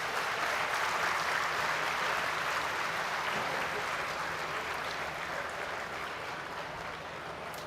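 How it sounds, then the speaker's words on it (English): Steady round of applause from the audience at a university department degree distribution ceremony for PhD graduates, sustained and even for several seconds, fading slightly toward the end. "Let's give a big round of applause to all our PhD graduates."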